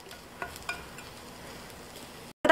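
A Spanish omelette cooks in a pan with a faint, steady sizzle and a few soft clicks, then a brief gap before a sudden louder sound at the end.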